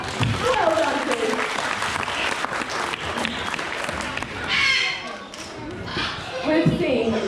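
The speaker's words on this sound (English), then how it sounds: "Zeus has done a really great job, so I think we'll give her a really big clap." An audience at a parrot show claps in scattered bursts under a voice speaking, with the clapping coming in uneven waves.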